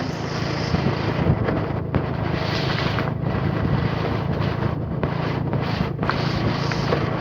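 Steady, loud wind buffets the microphone outdoors in open farm fields, a continuous roar with no pause over the whole stretch and no voices.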